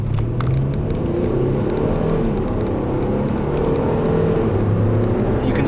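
A 2013 Ford Taurus SHO pulls away smoothly, heard from inside as a low, even engine rumble with a gently rising tone over tyre and road whir, steady and subdued throughout.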